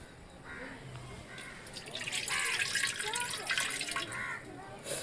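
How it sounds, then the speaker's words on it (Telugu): Water poured onto sugar for a syrup makes a faint, steady splashing and trickling that swells in the middle and then eases, with some background noise. "అర కేజీ చక్కెరకి అర గ్లాస్ వాటర్ అయితే పోసుకోవాలి."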